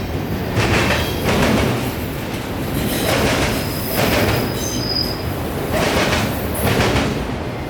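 A freight train passes close by in Central Florida, loud and continuous, with rhythmic wheel clatter and a high squeal from the wheels, and no voices.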